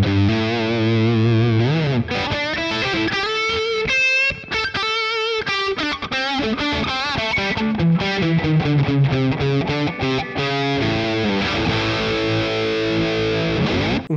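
Electric guitar through a Boss Katana Go amp on the Brown Lead factory preset, a loud, distorted lead line of fast bends and sustained notes playing continuously.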